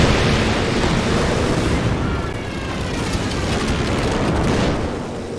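A strafing run by air support in Company of Heroes 2 rumbles as a loud, continuous roar of explosive impacts and engine wash that swells and slowly eases off.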